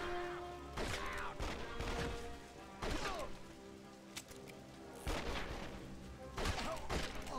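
Gunfire in the Western shooter Red Dead Revolver, coming as several separate loud bursts of shots and impacts spread across the stretch, with game ambience filling the gaps between them.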